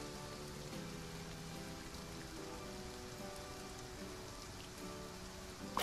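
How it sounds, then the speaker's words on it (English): Steady rain falls in the farming game Farm Together, a continuous soft hiss of drops on surfaces, fairly quiet and even throughout, with no talking. "It's raining and it doesn't give them water?"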